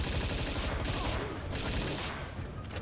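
Sustained gunfire from a gun in Palworld, dense and continuous across the whole stretch, loud and close, like rapid bursts with no pauses and no talking over it.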